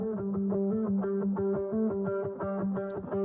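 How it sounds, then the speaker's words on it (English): A palm-muted electric guitar pluck part in an EDM praise and worship track plays a steady, rhythmic run of short, clipped notes over a sustained chordal bed, alone and up front. "Just kind of a palm muted guitar part."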